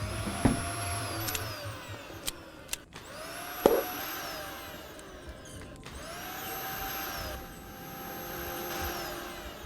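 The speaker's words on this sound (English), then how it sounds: "Vacuum." A vacuum cleaner in the video game Kill it With Fire 2 whirs in and out in several bursts, its whine rising and falling, punctuated by a few sharp clicks and thuds, fairly quiet overall.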